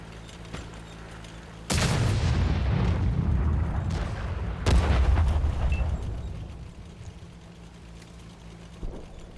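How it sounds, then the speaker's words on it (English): Artillery fire in a tank video game: two heavy booming blasts a few seconds apart, each followed by a long rumbling roar that slowly decays. "That artillery wanted me so bad."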